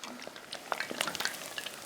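Food deep frying in a pot of hot oil, giving a steady soft crackle and sizzle with scattered pops and bubbling, fairly close and quiet, with no talking.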